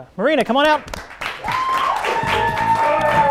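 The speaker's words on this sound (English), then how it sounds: "The crowd going crazy." A studio audience at a talk show applauds and cheers as guest Marina Jurica comes out. Dense, steady clapping swells after a host's brief spoken introduction and stays loud to the end.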